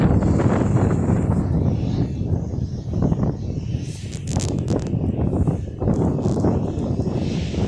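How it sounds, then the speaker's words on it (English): Strong wind buffets the microphone outdoors near Birmingham Airport in a steady low roar, with gusts rising and falling throughout. "it's absolutely windy outside."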